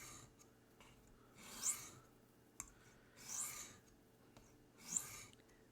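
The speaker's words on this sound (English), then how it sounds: "We register off of the guide, come down on the stone." Cooper Cutlery jack knife blade drawn across a sharpening stone against a guide, three slow rasping strokes at even intervals with light clicks between, close and quiet.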